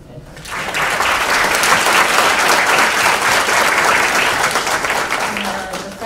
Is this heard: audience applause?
yes